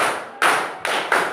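Schoolchildren in an elementary school classroom clap together in rhythm, three sharp, loud group claps in quick succession, each ringing briefly before the next.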